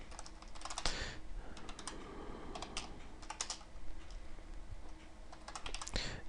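Rapid clicking keystrokes on a computer keyboard as C++ code is typed, in uneven bursts with short pauses, close and fairly quiet with no talking.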